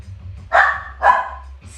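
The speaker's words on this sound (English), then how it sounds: "Stella, stop barking." A dog barks twice in quick succession, close and loud, during a live outdoor sunset yoga session, with a low hum underneath.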